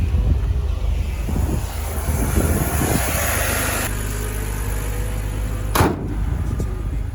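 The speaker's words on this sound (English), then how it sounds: "So let's go ahead and close the hood and then take it on a test drive." BMW E90 with a newly replaced breather hose running on a road test, a steady engine and road drone throughout with a brief louder whoosh near the end.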